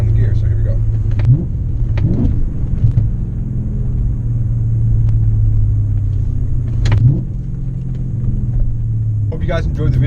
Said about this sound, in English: I'm just going to be controlling the revs and adjusting to what gear, giving it more gas depending on the gear.